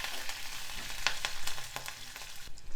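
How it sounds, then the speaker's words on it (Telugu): Green chillies and finely chopped onion frying in a pan for multimillet upma, a steady close sizzle with scattered sharp crackles and the occasional stir, no talking. "సన్నగా తరిగిన ఉల్లిపాయ ఒక చిన్నది. ఇవి చక్కగా వేగనివ్వాలి."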